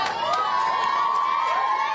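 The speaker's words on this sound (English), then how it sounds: "Cheered out of their hotel this morning on Judgment Day" A crowd cheers and shouts for the Matildas women's football team as they leave their hotel, with high, excited voices, some of them children, blending into one sustained, loud roar.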